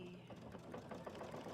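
An embroidery sewing machine stitches quilting on fabric in the hoop, a fast, even mechanical chatter of needle strokes running continuously at moderate volume.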